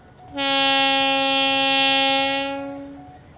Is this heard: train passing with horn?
yes